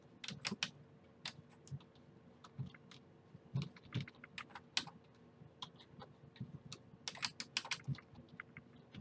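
Fast, irregular bursts of clicking from typing on a computer keyboard, close and fairly quiet, with short pauses between runs of keystrokes and no speech.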